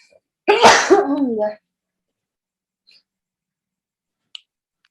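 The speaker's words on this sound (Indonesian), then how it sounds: "Aduh, mau bersin." A single sharp sneeze from a man with a dust allergy bursts out at close range, then near silence with a faint click or two afterward; a brief spoken word is heard.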